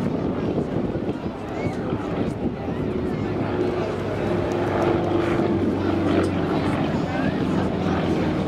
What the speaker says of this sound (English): YAK 1 will pull up, turn to the right, and then Derry turn to the left.